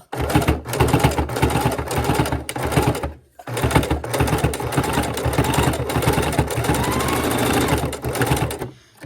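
A sewing machine runs steadily while stitching across a fabric keychain wallet, a loud continuous mechanical whir with one short pause partway through, with no talking.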